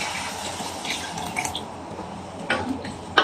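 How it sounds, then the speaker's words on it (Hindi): Water is poured into a pan of spiced kidney beans for rajma masala, a brief splashing trickle with a couple of louder sloshes near the end. "तो अब इस पॉइंट में हम डाल देंगे इसमें पानी।"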